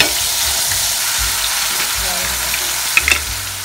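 Pork frying in a pan for okra sisig, a steady close sizzle with occasional stirring scrapes, loud and continuous throughout.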